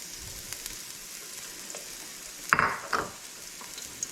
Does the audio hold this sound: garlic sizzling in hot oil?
yes